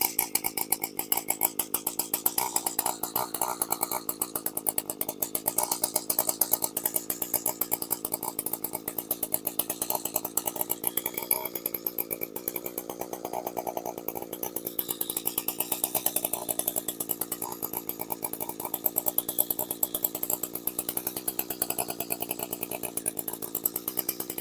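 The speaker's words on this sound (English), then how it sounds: "Full close choke. I'm just going to leave it there and let it warm up." A small two-stroke engine idles on full choke as it warms up, a continuous buzzing, rattling drone that stays close and loud throughout with only slight wavering and no voices.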